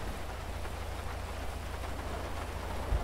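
Steady rain pours in GTA V with the LSPDFR mod, a constant broadband hiss that runs unbroken and even, with no voices over it.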